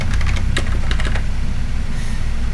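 Computer keyboard being typed on during a session tinkering with old computers, a burst of quick, uneven keystroke clicks in the first second or so, then trailing off over a steady low hum.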